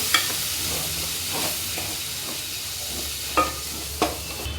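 Soya bean sukka being mixed in a pan with half a spoon of biryani masala, a steady sizzle under spatula scrapes, with two sharper clacks near the end.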